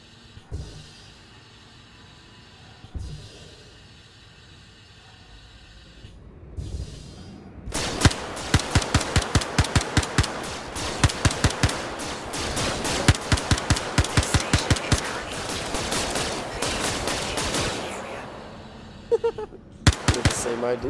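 Rapid bursts of long-range sniper and gun fire in a video game crackle loudly for over ten seconds after a quieter stretch, with sharp repeated shots standing out near the end and voices talking over parts.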